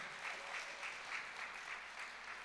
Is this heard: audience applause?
yes